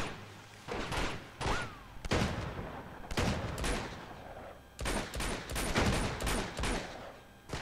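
Gunshots in Uncharted 2: Among Thieves, a series of loud close bursts and single shots in clusters with short gaps between them, and no talking.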